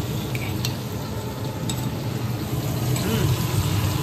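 Curry chicken stir-fried in a pan gives a steady, close sizzle with the scrape of stirring running through the whole stretch.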